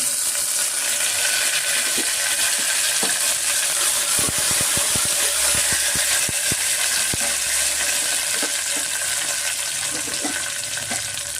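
Dried fenugreek leaves (kasuri methi) and mint frying in hot oil in a pan for tomato bath: a continuous, loud, close sizzle throughout, with a few soft stirring clicks and no talk.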